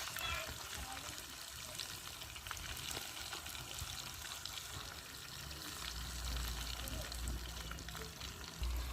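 Marinated fish pieces, heads included, sizzle and crackle steadily in a pan of hot oil, a close, continuous frying hiss with a low rumble beneath, no voice over it.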